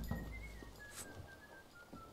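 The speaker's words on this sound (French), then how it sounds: "Arrête de siffler, c'est bon," A person whistles a thin, wavering tune in a quiet room, the faint melody drifting up and down for a couple of seconds with no talking.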